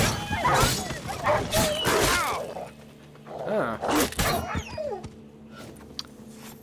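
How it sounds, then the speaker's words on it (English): Rabid dogs in The Witcher 3 snarl, yelp and whimper in a chaotic fight, with bursts of barking and yips rising and falling amid combat clatter; someone briefly speaks over it. "Rabid dogs, what the fuck they're doing here?"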